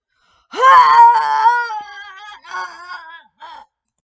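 A voice imitates a Bigfoot call in a single long, rising wail that sags into a wavering moan and ends in two short trailing cries, loud and close, alone, during a role-play Bigfoot hunt in Brookhaven.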